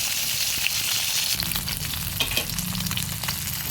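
Fish fries in a pan for a mustard-yogurt dish, a loud continuous sizzle and crackle with a low rumble beneath and occasional stirring clicks, no voices.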